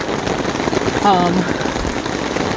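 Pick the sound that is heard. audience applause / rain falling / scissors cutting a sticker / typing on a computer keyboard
rain falling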